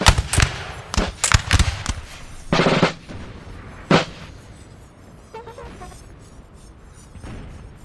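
Musket volleys in a Napoleon Total War multiplayer battle: several sharp, loud cracking bursts in quick succession, then scattered fainter shots and a lone later crack as the firing thins out.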